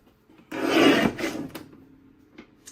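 A paper trimmer blade slicing through two stacked sheets of paper at once, a single loud rasping cut followed by a shorter scrape and a faint click.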